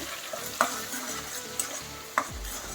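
Onion paste is stirred and fried for a lotus seed masala gravy curry, giving a soft steady sizzle with a few sharp spoon knocks against the pan and scraping strokes, with no voices.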